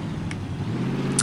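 A car engine in the Saints Row video game hums steadily at a close, even level, a constant mid-pitched drone with no speech over it.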